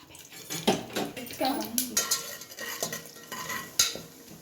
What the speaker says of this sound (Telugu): ఇలా టూ మినిట్స్ ఫ్రై చేసుకుందాం